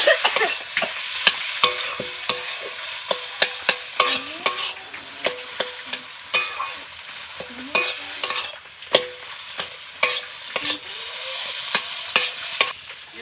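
Spiced bread-chop filling with chilli and cumin powder is stirred in a frying pan, a steady run of sharp scraping strokes with soft sizzling underneath, close and clear with no talking.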